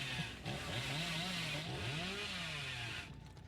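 Billy's chainsaw revs continuously in a video game, a buzzing engine whine that rises and falls in pitch, steady and fairly quiet throughout.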